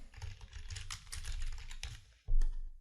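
Quick bursts of keystrokes on a computer keyboard as a contract title is typed into contract-management software, close and fairly quiet, ending in a sharper key press.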